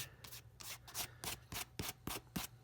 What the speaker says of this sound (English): I find that sometimes rubs it into the grain of the leather.